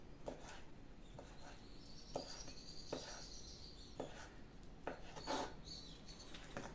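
Knife chopping partly frozen meat into small pieces for a lokanta-style paça soup, a series of faint, irregular close-up taps and rasps over a quiet background.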